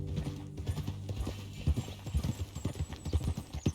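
Horse hooves clop steadily in Red Dead Redemption 2, an uneven run of close, loud hoof strikes on the ground over a low music bed.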